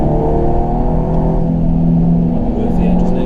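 A car accelerating on the Nurburgring during a 2015 tourist day, a loud, steady engine drone with rising harmonic tones heard from inside, while someone talks over it.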